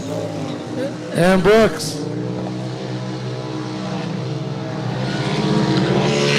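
Off-road race vehicles pass along the front straight at Glen Helen, their engines a steady roar that builds toward the end, while an announcer's voice briefly cuts in near the start.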